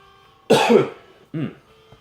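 Two coughs, a longer harsh one followed by a shorter one, close and fairly loud against a quiet background.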